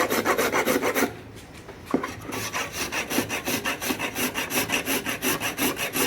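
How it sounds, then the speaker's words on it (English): A whole nutmeg is grated by hand for an 1887 pound cake, giving a steady series of close, rhythmic rasping strokes that pause briefly after the first second, then resume at an even pace with no talking. "So we're gonna grate the nutmeg in just like they did back then."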